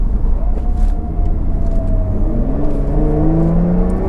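A Lotus engine rumbles loudly and close inside the cabin as the car slows and drops toward first gear, its tone dipping and then rising smoothly with a low whir underneath.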